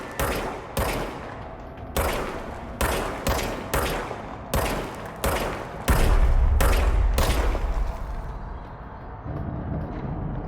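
Gunfire in the video game Control, a series of sharp, loud shots in quick bursts, ending with a denser rumbling stretch of fire.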